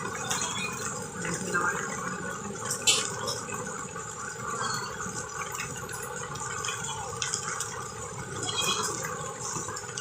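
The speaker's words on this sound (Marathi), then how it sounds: "कपडे भिजतील सगळी, कपाटांवर पाणी गळते" Rainwater from an unseasonal downpour leaks indoors at a goat farm, dripping onto cupboards. The splashing patter is continuous and moderately loud, with gurgling trickles and no voices.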